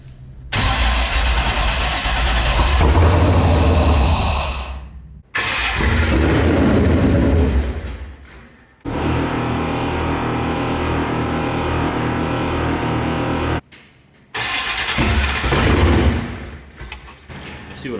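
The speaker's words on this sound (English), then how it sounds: "we're ready to get this thing fired off for the first time" A 6.0 LS V8 swapped into a 1963 International Harvester Travelall starts for the first time, cranking and catching in several loud bursts that stop abruptly, then settling into a rough idle with revs, heard close.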